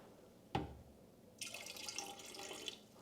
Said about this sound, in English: So we're going to remove some of that water.